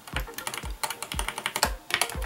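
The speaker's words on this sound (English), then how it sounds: "This one, you click keys and they shoot out." Keys clacking on a GK61 mechanical keyboard, close and crisp, in quick irregular bursts of several presses with short pauses between, with no voices.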